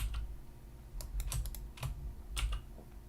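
Computer keys clicking in short clusters of crisp taps, a quick flurry in the middle and another burst near the end, close and fairly loud with no talking.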